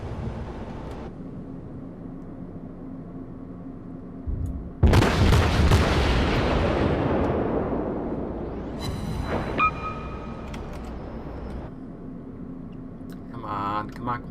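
Naval battle in World of Warships with a torpedo attack: a heavy explosion bursts in and its roar slowly decays, over a steady engine rumble, with further impacts and game sounds after.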